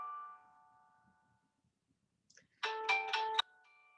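A mobile phone ringtone sounds indoors during a maths lecture, a short bright melodic chime rising after near silence, with a fainter tone fading at the start.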